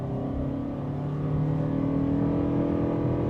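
Toyota Crown Signia Limited accelerating hard from a launch: a steady, fairly loud engine and road drone with rising tonal hum, heard close from inside the car without talk.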